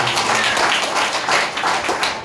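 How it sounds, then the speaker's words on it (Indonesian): Congregation in a church service clapping together, a steady, fairly loud wash of applause lasting throughout with no voices standing out. "Tepuk tangan yang meriah buat Tuhan."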